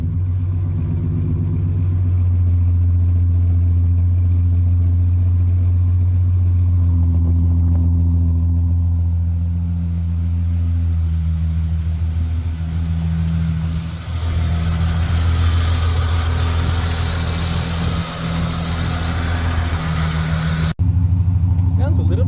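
A Ford Falcon inline six idles with a full exhaust and Pacemaker extractors, giving a steady, deep, loud low rumble that runs continuously and close by from start to finish.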